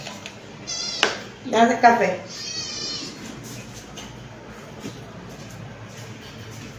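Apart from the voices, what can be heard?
cat meowing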